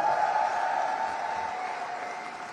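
A crowd applauds after a political speech by Jesse Klaver on a Dutch election night, a steady mid-distance clapping wash that slowly fades with no talk over it.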